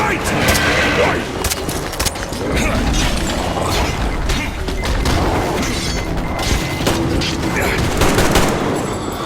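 Loud, sustained automatic gunfire in the Metro Exodus shooter, rattling bursts mixed with booms and crashes filling the whole stretch, with shouted voices in the fight.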